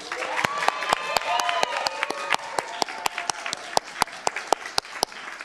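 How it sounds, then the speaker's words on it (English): Audience at a Miami Gardens city council meeting applauding an honoree, steady clapping that tapers to sparse individual claps, with some voices underneath. "I think we could clap for Jackie."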